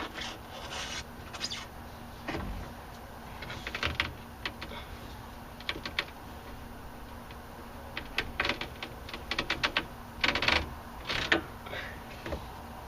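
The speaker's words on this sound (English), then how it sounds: "we can go ahead and remove this gasket right here, this trim piece." A gasket trim piece being pulled from the sunroof of a 1999–2004 Jeep Grand Cherokee, making faint, scattered rubbing, creaking and clicking sounds in short clusters against a quiet background.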